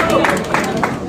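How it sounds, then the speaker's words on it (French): Audience applause fills a short moment, a dense steady patter of many hands clapping together, close and fairly loud with no break. "Il faut applaudir."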